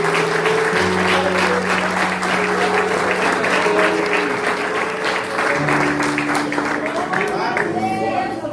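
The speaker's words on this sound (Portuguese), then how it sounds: "Você pode aplaudir o Senhor?" A church congregation claps steadily and loudly while sustained organ or keyboard chords ring underneath, the applause continuing throughout, at a Presbyterian missions service.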